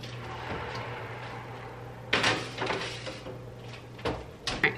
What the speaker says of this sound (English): I'm gonna go ahead and get these in the oven.